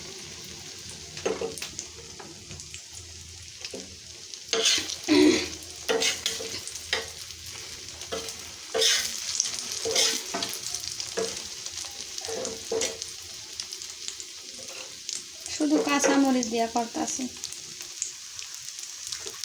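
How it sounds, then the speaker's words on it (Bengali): Egg frying in a pan with green chillies, heard as bursts of sizzle with a spatula scraping and stirring at close range. A voice speaks briefly over the cooking. "আর ডিম ভাজি করবো"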